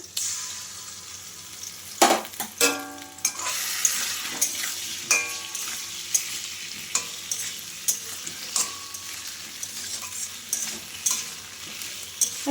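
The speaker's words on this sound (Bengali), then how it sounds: "মশলাটা দিয়ে এবার ভালো করে একটু কষিয়ে নেব" A paste of green chilli, ginger and cumin is stir-fried with already fried potato and papaya, a close, steady sizzle under rhythmic spatula scrapes and clinks against the pan repeating throughout.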